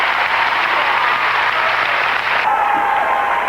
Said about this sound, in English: Instant standing ovation.